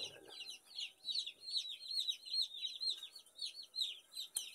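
Chicken clucking in a steady run of short repeated calls, fairly close and moderately loud, with a faint background and no voices.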